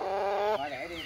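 Free-range gà nòi game chicken raised in a garden, giving a short close cluck followed by a wavering, falling call, loud and alone.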